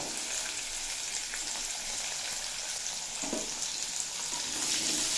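Potatoes and carrots fry in oil tempered with spices, making a constant, close sizzling crackle that stays even and bright throughout, with a small stir-like bump partway through.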